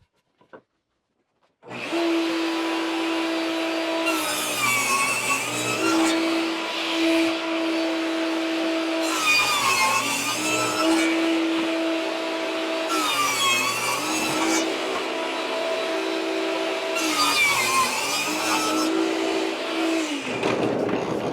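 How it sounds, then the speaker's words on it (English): Thickness planer feeding a wood board after starting up: a loud continuous motor drone, with repeated rising bursts of cutting noise as the board passes through. "I'm going to run it through the planer"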